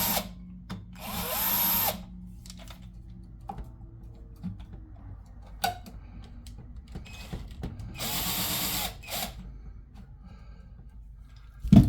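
A drill winds the strings on an acoustic guitar during a setup: two loud whirring bursts a few seconds apart, close by, separated by quiet clicks and handling noise, with no speech.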